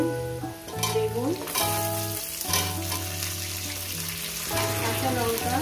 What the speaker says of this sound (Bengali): এটাকে আমি আরো 4 মিনিট ভেজে নেব।